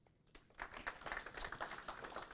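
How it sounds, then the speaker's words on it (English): Indoor audience at a Kenyan political gathering in Dallas, Texas, breaking into applause for its leaders, a patter of hand claps that builds quickly and stays steady, moderately close. "Let us applaud our leaders in Texas."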